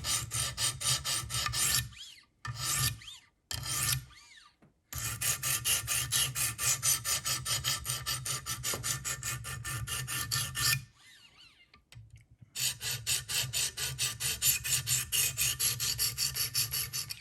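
Buck 422 knife blade sharpened on a Wicked Edge system with 100 grit stones, repeated close, loud rasping strokes in a steady rhythm with a few brief pauses between passes.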